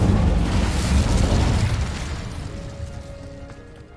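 An Incendio fire spell goes off in Hogwarts Legacy with a loud booming burst. Its rumble fades over a few seconds while faint tonal game sounds rise underneath.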